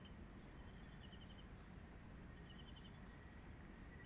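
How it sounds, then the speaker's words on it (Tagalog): Crickets chirp in quiet, repeated trills over a soft, steady night hum, faint and somewhat distant, on Mount Balagbag at night. "makairinig mo yan, yung kuliglig na yan."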